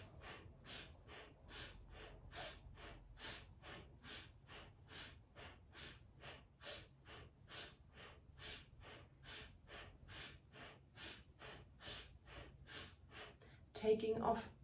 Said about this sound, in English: And keep on breathing.